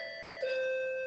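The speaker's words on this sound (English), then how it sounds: "Somebody's ringing my doorbell." An electronic doorbell chime at a home during an exercise session, a steady bright tone held for about a second, fairly close, with no voices.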